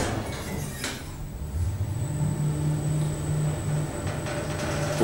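A Schindler 2400 machine-room-less lift in a car park runs steadily, a continuous low motor hum with a faint high whine, holding even loudness for several seconds with no voices.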